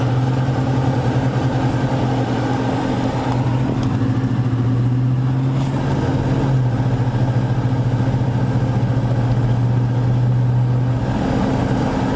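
Car engines idle in a traffic jam near a junkyard in Tuxpan, Iguala, Mexico, a loud steady low rumble with a droning hum that shifts pitch slightly, continuous throughout with no voices.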